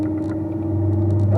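A car engine on a racetrack, a steady low rumble rising in loudness as the driver squeezes in power, close and in-car, with no talk.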